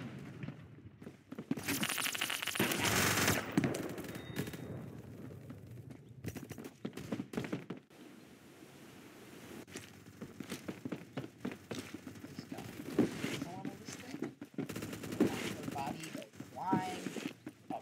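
Gunfire in a video game, with bursts of loud crackling shots and rattling impacts among game noise, and a person talking over parts of it.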